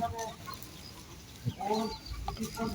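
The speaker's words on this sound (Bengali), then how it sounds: "দেশি মুরগি এগুলি" Free-ranging native village chickens cluck in short, scattered bursts close by. The calls come against a quiet outdoor background, and no voices are heard.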